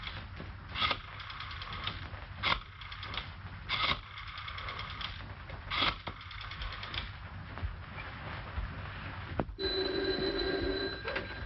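An old telephone bell on a 1938 office set rings in several sharp metallic bursts, loud and close, followed by a mechanical rattle near the end.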